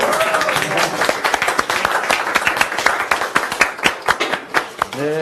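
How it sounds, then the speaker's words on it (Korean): An audience at a 2015 public event with the provincial governor claps together on request. The applause is loud and dense, a steady mass of overlapping claps that carries on with faint voices underneath. "박수 한 번만 더 쳐주세요"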